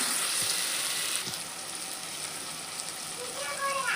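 Mixed vegetables and homemade garam masala sizzle in hot oil for a vegetable pulao, a continuous, fairly close crackling fry with a few light stirring knocks.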